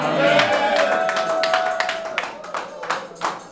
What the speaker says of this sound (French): Je vais entendre beaucoup d'amen et d'acclamations.